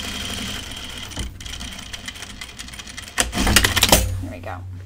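Sewing machine double-stitching the fly of men's pants, a continuous rapid stitching rattle with irregular clicks, growing louder near the end before stopping.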